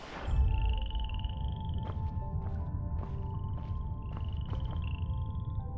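In the video game Where Winds Meet, a poison frog croaks in a series of short, repeated calls over a soft tonal ambient background, fairly close and clear.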